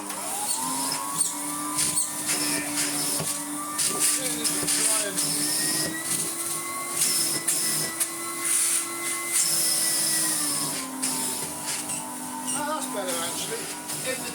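AEG Compact Electronic 406 vacuum cleaner running at full suction, a steady whining motor hum whose pitch shifts slightly as it works, with someone talking over it.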